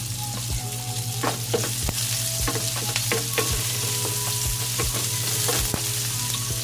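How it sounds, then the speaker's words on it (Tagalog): Garlic sizzles steadily in hot oil in a pan, a continuous close frying hiss broken by occasional sharp utensil clicks and stirring knocks, with no talking. "Lagay ko na yung aking garlic. Huwag sunugin, guys, para masarap, hindi pa pait."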